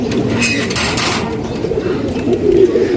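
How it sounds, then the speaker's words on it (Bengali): A pair of black-tailed pigeons coo nearby, soft low throaty calls in a repeated rhythm with light fluttering and rustling around them. "এক জোড়া কালদম কবুতর যেই কবুতরগুলো আমি নতুন কালেকশন করছি"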